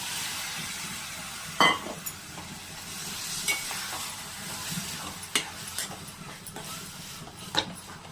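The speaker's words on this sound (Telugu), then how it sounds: "టమాటాలు వేసుకోవాలి." Chopped tomatoes are added to onions and masala that have already been browned in a pan for a tomato egg curry, giving a steady low sizzle with a few sharp clinks of a stirring spoon against the pan.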